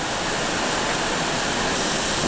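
Large water wheel turning in a wooded dene, heard as a steady, loud rush of falling and churning water with no break, close by and without voices.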